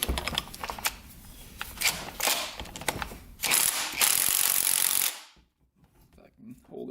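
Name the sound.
tool removing Yamaha YZ80 dirt bike flywheel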